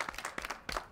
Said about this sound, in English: Y'all clap it up for yourselves, man.